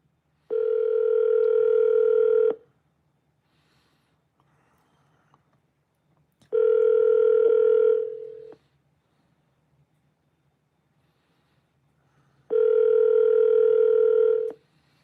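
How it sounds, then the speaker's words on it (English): Three long electronic ringback tones from an outgoing phone call placed through an Alexa smart speaker, each about two seconds and separated by several seconds of silence, steady and clear with no talking. "Alexa, call Laura Berg. Calling Laura Berg's mobile."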